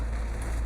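Rain falls on a Kowloon Motor Bus Enviro500 MMC double-decker on route 16X, a soft, steady patter over the deep, constant rumble of the moving bus, with no voices.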